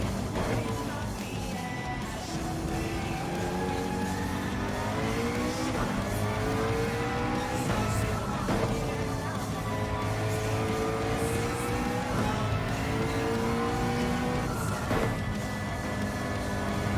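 Race car engine in Gran Turismo 7 rising and falling through repeated gear changes and hard acceleration, loud and continuous with occasional tire squeal, no talking.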